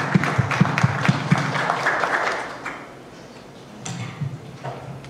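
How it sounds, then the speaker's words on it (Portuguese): Brief applause from a seminar audience at a themed panel, with a few distinct claps early on that thin out and fade, then a soft scatter of handclaps returns near the end. "Uma salva de palmas"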